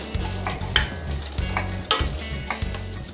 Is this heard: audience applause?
no